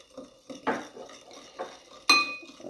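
Chili flakes and lemon juice being stirred in a bowl with a spoon, giving a few scattered clinks and scrapes of metal against the dish, fairly close and with no talking.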